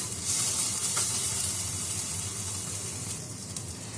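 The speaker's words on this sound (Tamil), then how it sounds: "தேங்காயும் ஒரு 2 நிமிஷம் நல்லா வதக்கி விட்டுருவோம்." Coconut being sautéed in a pan for crab curry, a soft steady sizzle and hiss at low level with faint stirring, continuous and without talk.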